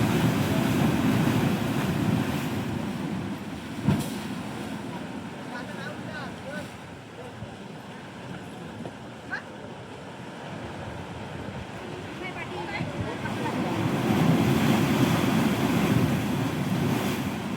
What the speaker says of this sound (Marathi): भरपूर मस्त उडतं एकदम वरती वरपर्यंत पाणी उडतं इथून.